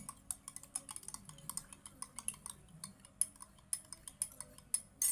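A spoon clinks rapidly against a glass while stirring a honey and lime juice drink, a quick run of bright metallic taps at close range with no talk.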